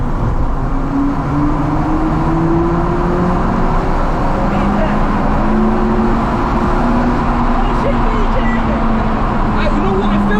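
A 2007 Honda Civic FN2 Type-R accelerates hard through a tunnel, its engine note climbing steadily in a loud, enclosed roar beneath ongoing talk.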